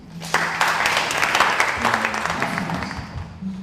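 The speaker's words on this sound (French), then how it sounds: "Merci pour vos applaudissements." Scattered applause from a small audience, clapping rising quickly and then tapering off, with a voice speaking over it.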